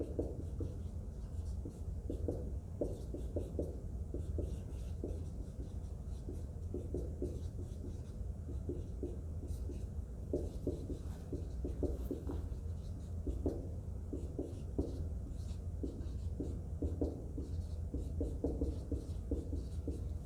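Writing on a board while balancing a chemical half reaction makes repeated short scratchy strokes in bursts over a low steady room hum, fairly faint and close, with no talking.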